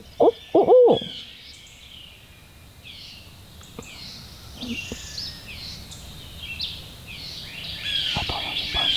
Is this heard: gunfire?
no